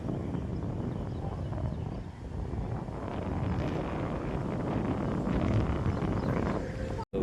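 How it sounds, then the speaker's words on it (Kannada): Strong wind roars steadily against the microphone throughout, near a bridge on the road between Mantralaya and Bangalore, a dense rushing buffet with brief dips, loud and close. "ಹೆವಿ ಗಾಳಿ ಐತೆ ಮಾತ್ರ"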